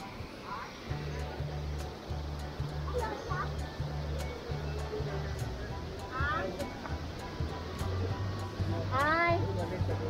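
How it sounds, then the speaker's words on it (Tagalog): Strong surf crashes in a steady broadband roar with a low droning hum underneath, while faint voices come and go in the background. "medyo malakas na yung alon"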